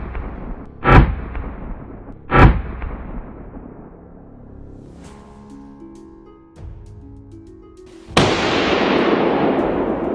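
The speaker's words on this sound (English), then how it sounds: "The moment the boar crossed my line of sight, a single, sharp shot rang out." Rifle shots fired at a wild boar during a hunt, two sharp loud cracks about a second and a half apart with ringing decay, followed by quieter sounds and a sudden loud burst that fades slowly.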